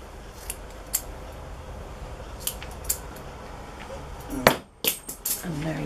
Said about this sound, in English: I'm going to put the scissors in and I'm just going to do one cut on the mid lengths here